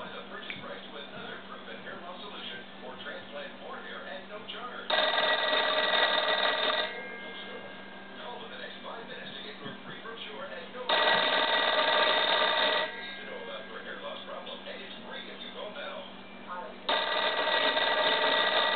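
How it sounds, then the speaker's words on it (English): A 1936 Western Electric 202 telephone bell rings loudly in three long bursts, each about two seconds, separated by pauses with faint background noise. "Let me call it. It has a nice loud ring."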